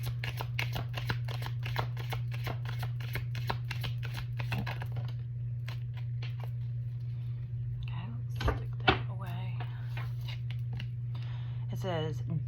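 Tarot cards being shuffled by hand in a quiet room, a run of soft, quick riffling flutters over a steady low hum, followed by a few louder taps and rustles near the end.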